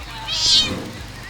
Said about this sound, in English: Poor Zelda's just gonna be meowing her little self to death.